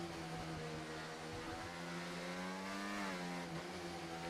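A Mercedes Formula 1 car engine in a racing game gives a continuous high, buzzing whine with dense harmonics, holding steady and then sweeping up and back down in pitch as it revs.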